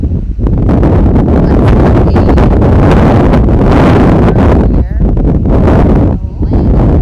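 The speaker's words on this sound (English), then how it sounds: "Wind picking up" Strong gusts blast across the microphone outdoors, a loud, rumbling, buffeting roar that surges and dips without pause throughout.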